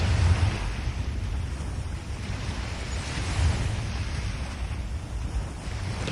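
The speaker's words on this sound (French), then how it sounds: "Entendez maintenant le bruit des vagues." Steady ocean waves wash and roar continuously, with surges swelling and receding over a constant rush of surf and wind.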